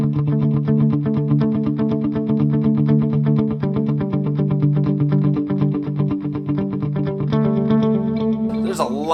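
Guitar through an HX Stomp running dual delay, with quarter and dotted-eighth repeats stacking into a dense, rhythmic pulse of echoing notes that ends in a brief pitch swoop.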